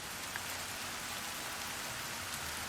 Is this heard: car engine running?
no